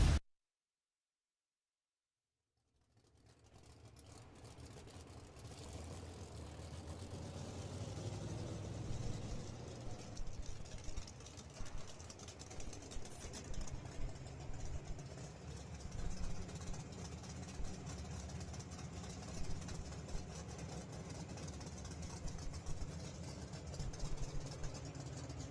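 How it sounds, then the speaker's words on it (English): A Kazi 830 cubic inch drag race engine under a hood scoop idles loudly and close at a PDRA drag racing event, starting after a brief silence and holding a heavy, steady lopey rumble with uneven pulses throughout. ".830 cubic inches of Kazi race engine underneath the hood scoop."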